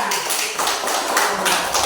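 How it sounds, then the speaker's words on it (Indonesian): Children in an elementary school classroom applaud a student group with a burst of rapid, dense clapping from many hands, loud and close, lasting the whole moment. "Tepuk tangan untuk kelompok 3."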